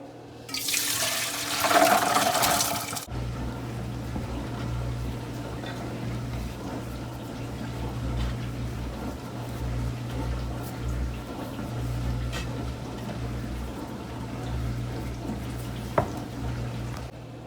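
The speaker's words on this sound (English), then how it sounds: "I'm going to strain those off and rinse them." Soaked dried beans being strained and rinsed for cassoulet, opening with a loud rush of water pouring for about three seconds, then a lower steady hum of running water and faint clatter nearby.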